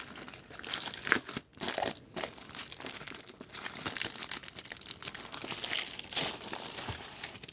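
Packaging of a small 30 by 30 cm penguin New Craft Day diamond painting kit being opened, with close, continuous crinkling and tearing of plastic and paper in irregular bursts.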